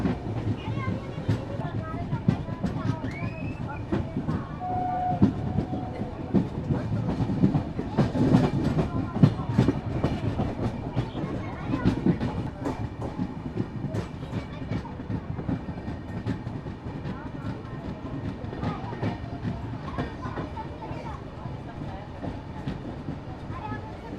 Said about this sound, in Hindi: तो ट्रेन हमारी पहुंच गई है राइट टाइम